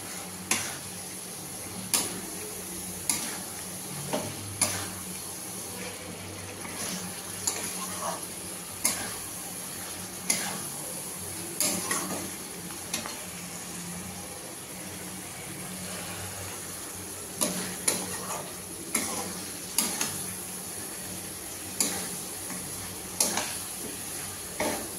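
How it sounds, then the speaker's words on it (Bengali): Mutton stir-fried in a pan, with a steady background sizzle broken by repeated sharp scrapes and clinks of a spatula every few seconds, close by and moderately loud. "আর এখানে মাংসটা আমি এখন কষাচ্ছি।"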